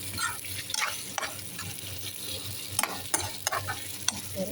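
Beans frying in a pan for a simple breakfast, a soft steady sizzle with intermittent scraping and stirring strokes, fairly quiet and close with no talking.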